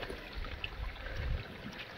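A small stream runs near a hillside temple in Sangli, a faint, steady watery hiss with soft low rumbles and no voices.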